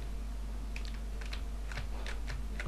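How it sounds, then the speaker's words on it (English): Fingers type on a worn, failing computer keyboard, a quick irregular run of soft key clicks at close range over a steady low hum, with no talking. "My keyboard's starting to die again. It's actually my keyboard dying."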